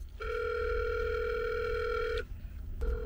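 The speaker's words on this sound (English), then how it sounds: "I'm calling again after 3 minutes of the phone ringing" Steady ringback tone on an outgoing phone call to a mechanic in Brazil, a long continuous tone lasting about two seconds, then a pause before the next tone begins, fairly loud with faint background hiss.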